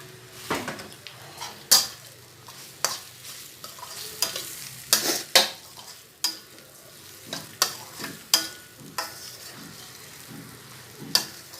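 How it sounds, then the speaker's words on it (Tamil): Egg kothu parotta, a street-food dish, is stirred and mixed with leftover chicken gravy in a hot pan, giving repeated scraping clanks of a metal spatula against the pan every second or so over a low steady sizzle. "இதோட கொஞ்சம் சிக்கன் கிரேவி மீதி இருந்துச்சு, அதை இதோட சேர்த்து மிக்ஸ் பண்ணிட போகிறேன்"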